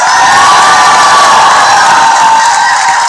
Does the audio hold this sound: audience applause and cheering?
yes